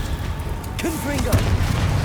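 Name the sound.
Confringo fire-blast spell explosion in Hogwarts Legacy video game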